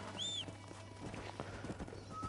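Horse hooves clip-clop steadily in Red Dead Redemption, a run of close, regular hoofbeats, with a brief whinny near the start.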